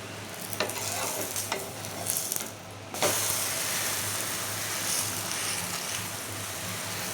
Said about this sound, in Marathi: हे बघा कसं होतं बुडबुडे अरे ही मेल्ट होते ना साखर